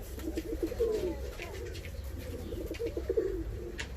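Ornamental pigeons coo in low, rolling bursts nearby in a coop, two phrases of throaty warbling against a faint background hum.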